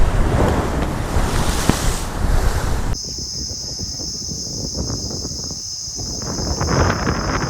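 Large storm waves surge against a river embankment at Mousuni during a deep depression, a loud continuous roar of surf and gusting wind buffeting the microphone, easing slightly partway through.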